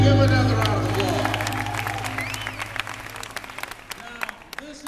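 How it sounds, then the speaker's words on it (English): An audience at a motivational talk gives a round of applause, a dense wash of clapping and crowd noise that is loud at first and then thins into scattered claps, with a low hum underneath. "Give another round of applause."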